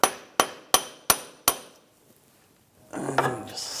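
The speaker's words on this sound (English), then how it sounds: "with a large punch, you can hit the back side of where the CV shaft is. Just hammer it out a little bit." Five sharp, evenly spaced metallic strikes of a hammer on a punch drive out the front CV axle of a 2009-2013 BMW 328i xDrive, each ringing briefly, followed by a pause and a short scraping shuffle.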